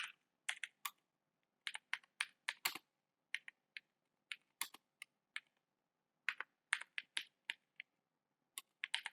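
Typing on a computer keyboard in quick bursts of close, crisp key clicks separated by short pauses, with no voices.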